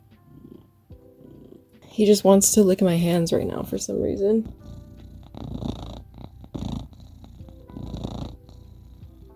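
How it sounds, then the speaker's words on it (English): A cat purrs softly in the background while a person talks over it at close range. "Sorry if you can hear my cat purring."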